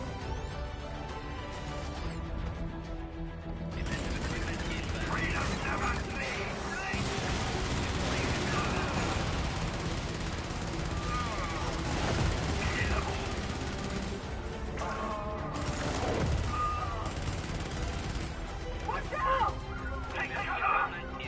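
Turret gunfire rattles in the video game Helldivers, sustained bursts of heavy shooting and impacts in the middle distance beneath several voices talking throughout.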